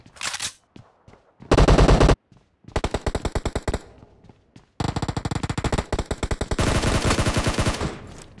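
Gunfire from the PUBG Mobile shooter game in a hangar gun-game match comes in loud, close bursts of rapid automatic fire separated by short pauses, ending in a long sustained volley.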